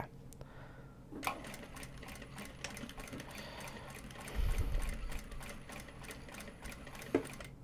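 A sewing machine runs stitching fabric up close, a fast steady mechanical chatter with brief pauses and a louder thump midway, quiet overall with no talk.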